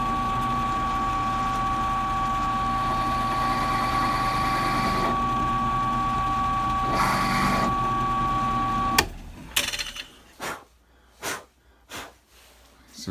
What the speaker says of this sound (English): So now let's countersink the screw here.